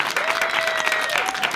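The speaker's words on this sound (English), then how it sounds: "Ladies and gentlemen, a big round of applause." An audience at a live charity food event breaks into a steady round of applause, dense clapping close and even throughout, with a faint voice briefly audible beneath it.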